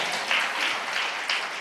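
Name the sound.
church congregation applauding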